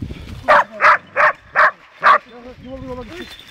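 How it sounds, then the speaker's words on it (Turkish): Hunting dogs bark during a wild boar hunt. Six loud, evenly spaced barks come close to the microphone, followed by softer whimpering yelps and a faint human voice. "Köpekleri çekin alttan köpekleri"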